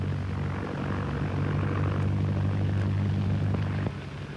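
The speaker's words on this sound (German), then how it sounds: "Ein amerikanisches Flugzeuggeschwader begleitet die kühnen Flieger, die soeben New York passieren." Several propeller airplanes of a 1932-era squadron drone steadily overhead in a continuous low, loud engine roar, dipping slightly near the end.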